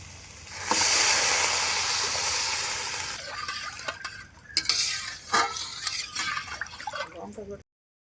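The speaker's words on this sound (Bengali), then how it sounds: "ডালটা আমি ভেজে নিয়েছি, এবার আমি দিয়ে দেবো পরিমাণ মতো জল" Water poured into a hot pot of fried lentils for vegetable khichdi gives a loud, rushing hiss for a couple of seconds. It then fades into softer bubbling with a few sharp utensil clinks and scrapes.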